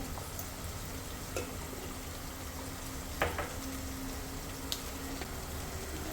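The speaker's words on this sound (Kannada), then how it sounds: "ಸ್ವಲ್ಪ ಫ್ರೈ ಮಾಡ್ಕೊಳ್ಳೋಣ" Spices with chilli powder frying in a pan for paneer biryani, a quiet steady sizzle with a few soft clinks of stirring, no talking.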